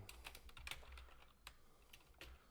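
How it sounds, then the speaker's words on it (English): Quiet, close-up typing on a computer keyboard, irregular clicks and taps scattered over a few seconds with faint room noise underneath. "You could probably hear me typing and everything banging around on the desk."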